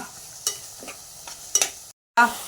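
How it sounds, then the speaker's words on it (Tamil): Vegetables for veg biryani being stirred and sautéed in a pan, with a few sharp scraping clatters of the spoon over a low sizzle and a brief silent gap. "ஒரு நல்லா 5 நிமிஷம் நல்லா வணக்கிக்கோங்க"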